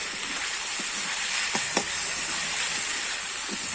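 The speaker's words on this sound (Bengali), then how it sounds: "আমি কিন্তু এবার ভাজা পটলটা দিয়ে দেবো দিয়ে একটু নেড়ে চেড়ে নেবো" Fried pointed gourd being stirred into a sizzling spice masala in a pan, giving a steady, close hiss with a few brief clinks and scrapes from the stirring.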